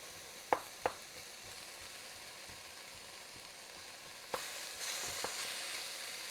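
Round steak browning for homemade chili gives a low, steady sizzle in the pan, with a couple of sharp clinks near the start and a louder burst of frying toward the end.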